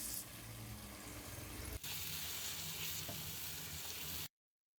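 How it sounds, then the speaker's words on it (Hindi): Tomato paste for chicken Afghani karahi fries in a pan with a loud, continuous close sizzle that is briefly interrupted once and then cuts off at the end. "टमाटर का पेस्ट डालने के बाद हम इसको 5 मिनट इसी तरीके से भून लेंगे।"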